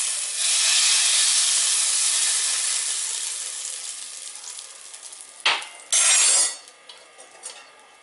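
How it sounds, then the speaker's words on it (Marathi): Hot oil tempering with cumin and mustard seeds poured over moong dal chutney, a loud burst of hissing sizzle that fades gradually, followed by a sharp clink and a short second hiss, with no voices. "फोडणी चटणीवर आपण घालून घ्यायची."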